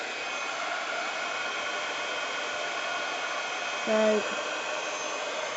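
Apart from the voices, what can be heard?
heat tool melting white embossing powder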